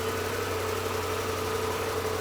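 A Triumph Tiger 1200 motorcycle engine idles with a steady, even low rumble and faint mechanical vibration, holding constant throughout with no voices.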